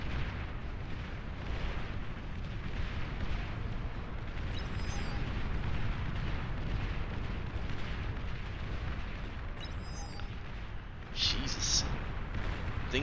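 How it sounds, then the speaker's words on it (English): Dense, continuous battle din from units firing and exploding in the real-time strategy game Beyond All Reason: heavy rumbling blasts and crackling fire, including flames, electricity and plasma weapons, with a commentator talking over it. "Flames, electricity, plasma, Sheldons firing everywhere."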